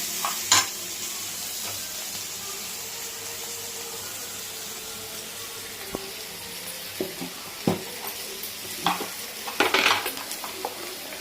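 Carrot and toor dal fry with turmeric in a pan as a soft, steady sizzle, broken by occasional scraping stirs and sharp utensil clinks against the cookware, with no talking.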